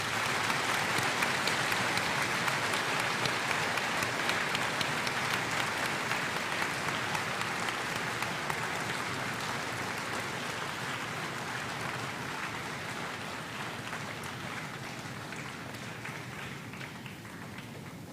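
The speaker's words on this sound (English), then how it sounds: "Please give them a round of applause." Steady applause for veterans at a high school Veterans Day program, a dense crowd clapping continuously and slowly fading over nearly twenty seconds.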